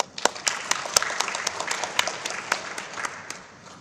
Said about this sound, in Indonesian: Kita berikan aplaus untuk Pak Ismail